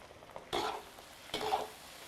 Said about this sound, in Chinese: 把肥肠炒干水气哈，给它煸香